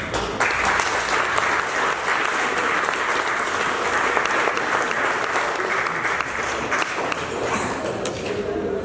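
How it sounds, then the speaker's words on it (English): An audience at a lodge installation ceremony gives a round of applause to the guest of honor speaker, loud, steady clapping from a full room throughout, with faint voices mixed in. "Another round of applause to our guest of honor speaker"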